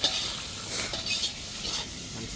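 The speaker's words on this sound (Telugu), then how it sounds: "ఫ్రై కూడా వేసేసుకుంటున్నారు ఫైవ్ మినిట్స్ ఫ్రై చేసుకోవాలండి" Onions, tomatoes and green chilies fry in a pan for a dry fish curry, giving a continuous close sizzle broken by a few soft stirring scrapes.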